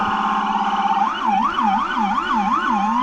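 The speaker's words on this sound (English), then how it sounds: "I don't think I've ever heard any of these sirens before" A loud, close police car siren at a town parade holds a steady tone, then switches into a rapid rising and falling wail that keeps cycling.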